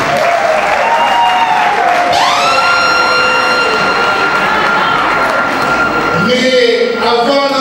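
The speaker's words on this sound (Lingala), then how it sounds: "Je vous prie d'applaudir très très fort s'il vous plaît." Wedding guests at an evening dance party clapping loudly and steadily in a sustained round of applause, with cheers and whistles and a voice speaking over it.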